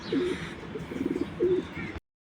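Pigeons coo in a short series of soft, low calls at a Dhaka pigeon loft near the Mohakhali flyover, three close cooing bursts over a steady background hum.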